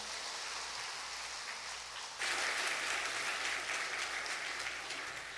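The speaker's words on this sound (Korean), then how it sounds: "박수하겠습니다." A church congregation breaks into applause during a Sunday worship service, a thick wash of many hands clapping that starts abruptly a couple of seconds in over a quieter room hum, loud and sustained to the end.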